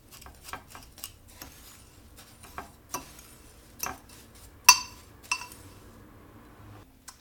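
A utensil mixes flour and oatmeal in a bowl, giving sparse, irregular clinks and soft scrapes against the bowl, close by and quiet, with gaps between strokes.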